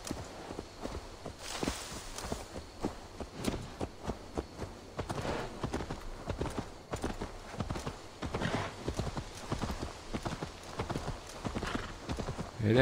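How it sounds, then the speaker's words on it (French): Steady clip-clop of horse hooves at a walking pace in Assassin's Creed Valhalla, fairly close, with occasional soft background noises and no speech. "Ah, elle monte sur le cheval, ok."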